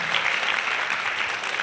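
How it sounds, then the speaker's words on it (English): A short burst of audience applause at a seminar, dense steady clapping filling the room without any voices. "Give you a round of applause."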